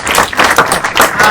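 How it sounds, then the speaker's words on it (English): An audience at a design meetup applauds the panel, a short loud burst of dense clapping close by. "Can we have a round of applause?"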